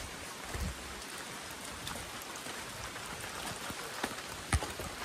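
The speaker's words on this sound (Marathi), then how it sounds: "मस्त असा पाऊस" Steady rain falls on a muddy forest trek trail, a soft, even hiss with scattered drips and a few dull thuds, including one sharp knock near the end; no voices are heard.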